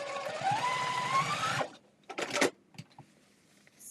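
A home sewing machine stitches a quilt block in one steady whirring run of about a second and a half, then stops. A few short clicks and bursts of handling noise follow.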